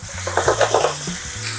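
Onion, carrot and chili peppers stir-frying in a hot pan give a bright, crackling sizzle with pulsing stirring sounds, over a low, steady hum in the background.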